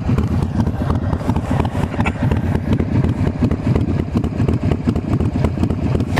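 A Harley Sportster motorcycle engine runs close by, a loud, steady, throbbing idle with rapid regular pulses that continue without a break.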